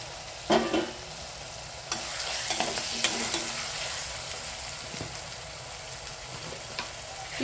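Tomato frying in oil with ginger garlic paste for a gravy: a steady close sizzle with occasional stirring scrapes and clinks of a spoon against the pan, no voices.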